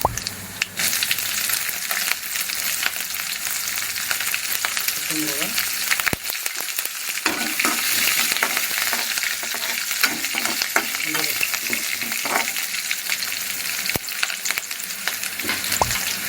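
Green chilies frying in a small amount of hot oil for goat blood fry, a steady loud sizzle with brief stirring clatter, continuing throughout without speech.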